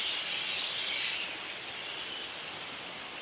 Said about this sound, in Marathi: तिथून पाणी येत आहे.